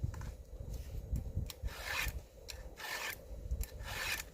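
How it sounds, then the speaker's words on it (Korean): A hand file rasps against the cutting teeth of a chainsaw chain in a series of soft, evenly paced push strokes, each a brief gritty scrape, faint and close with no talking. "똑같이 세 번을 밀었으면 모든 줄은 똑같이 세 번을 밀어야 됩니다"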